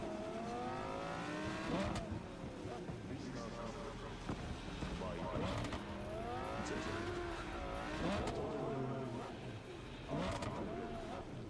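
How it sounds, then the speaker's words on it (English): A Cyberpunk 2077 car engine revs and drops through the gears, rising and falling in pitch, with occasional tire noise, moderately loud throughout, with some stuttering. "This car sounds different."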